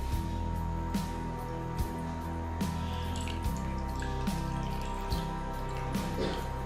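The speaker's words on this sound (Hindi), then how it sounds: "अब मैं इस वाटर को स्ट्रेन कर लूँगी।" Water soaked with rice flour is strained, giving soft, irregular drips and trickles close by over a constant low electrical hum.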